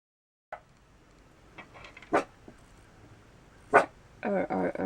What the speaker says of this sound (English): Are you gonna stop barking anytime soon?